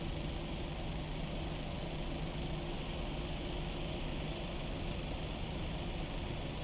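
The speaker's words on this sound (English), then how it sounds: "And starting engine number 1." Engine number 1 of a PMDG airliner starting in the Prepar3d flight simulator, a constant loud broadband roar and hum with no pauses or spool changes.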